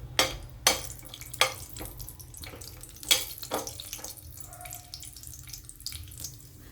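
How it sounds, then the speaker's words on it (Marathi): Cashews sautéing in a pan for a mixed vegetable curry give a steady soft sizzle, broken by several sharp scraping stir strokes, close and moderately quiet, with no talking. "मी ना आता हे थोडे काजू याच्यात परतून घ्यायला लागले"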